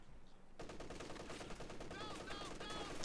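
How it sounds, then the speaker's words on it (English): Heavy machine gun fire in Company of Heroes 2, a rapid rattling burst that starts abruptly and keeps chattering at low level, with faint game sounds mixed in. "They have to run through this HMG fire."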